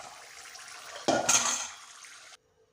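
Fried amla gooseberries tipped from a pan into a bowl for pickle, a sudden clattering burst of pieces landing, loud and close, fading after about a second before cutting to silence.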